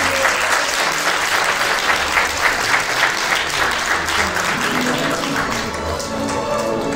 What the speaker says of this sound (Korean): 계속해서 박수 부탁드립니다